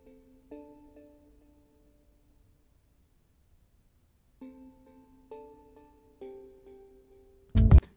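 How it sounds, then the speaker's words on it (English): Bell-like tones from a music mix with reverb and delay, sounding in a few sustained struck chords with pauses between, followed by a brief loud burst at the end. "Here's the bells."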